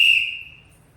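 A single sharp whistle blast at a children's summer camp game, loud at the onset and trailing off over about a second, with no voices over it.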